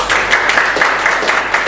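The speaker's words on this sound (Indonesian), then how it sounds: "Beri tepuk tangan dong." Crowd applause in a church service, a steady, dense wash of many hands clapping together with slight swells, continuous and fairly loud from start to finish.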